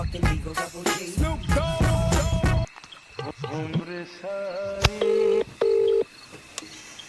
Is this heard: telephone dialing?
yes